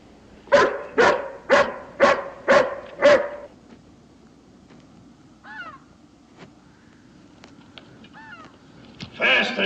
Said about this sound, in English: Can't you temper this hound some?